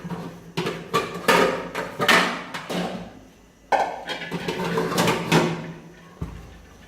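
A bowl taken out and handled in a home kitchen while making white sauce macaroni, with repeated close knocks and clatters of crockery and utensils, loud and irregular, with no voices.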